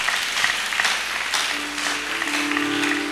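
A church congregation applauds and cheers a choir, with a dense burst of clapping and scattered voices, then a sustained tone rising under the claps near the end.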